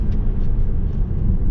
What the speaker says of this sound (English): when you downshift it, you can hear that exhaust go, you can hear that turbo go